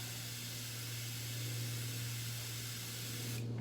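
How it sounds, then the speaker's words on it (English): A faint, steady hiss of paint spraying from an airbrush onto rags, constant and unbroken, with a low hum underneath. "I go down here to my rags I have down here, and I spray some paint."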